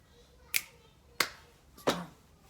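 Three crisp finger clicks in a classroom body-percussion rhythm exercise, evenly spaced about two-thirds of a second apart, close and clear against a quiet room.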